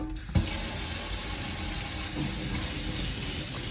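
Hot water pours steadily from a kitchen tap into a sink, a continuous close rushing hiss that begins abruptly after a brief click and runs unbroken.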